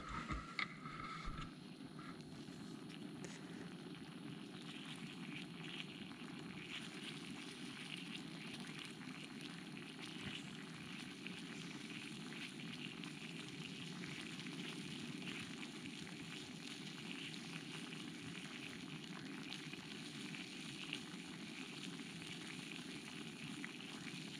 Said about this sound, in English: And you can see it's starting to boil a little bit